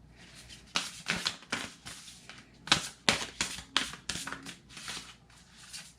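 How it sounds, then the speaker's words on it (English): Oracle cards being shuffled by hand, close and quiet, a series of crisp riffling bursts and soft slaps in an uneven rhythm. "We'll give these one last shuffle."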